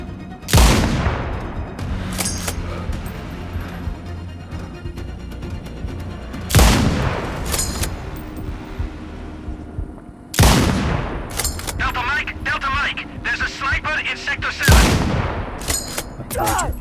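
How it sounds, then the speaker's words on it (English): Gunfire in the sniper game Sniper Ghost Warrior Contracts 2: four loud, sharp shots spaced several seconds apart, each with a long echoing tail, over a steady background rumble and ambient game noise. "stop shooting at me, damn it"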